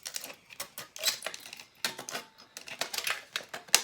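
Snips cut a thin metal strip to shape a clay cutter, producing a close series of sharp, irregular clipping clicks with short pauses between bursts.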